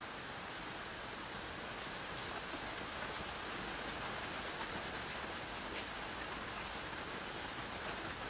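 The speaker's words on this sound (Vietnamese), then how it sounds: "nay chợ về mà mưa to quá, trời mưa to quá, rất to luôn" Heavy rain pours down in a steady, dense hiss that holds at an even loudness from start to finish, with no voices.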